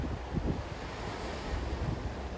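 Ocean surf washes in a steady, unbroken roar, with soft swells and wind noise but no distinct single breaker, heard alone without any voices.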